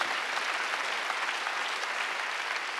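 A Korean church congregation at a Sunday service claps together, a thick, uniform burst of applause that fills the room briefly and evenly, with no voices over it.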